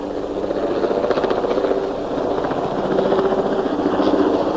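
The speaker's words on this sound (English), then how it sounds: "Sounds like a helicopter over there." A helicopter drones nearby over a tennis match with a steady, pulsing rotor chop that stays loud and even throughout, with no talking.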